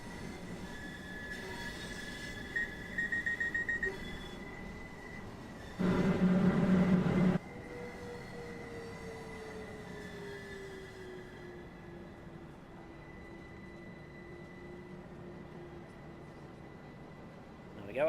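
Train wheels squealing as a British commuter train in the simulator game Train Sim World 6 slows into a station on the East Coastway line near Brighton, a long thin sustained screech over steady rumble, with a brief louder burst partway through.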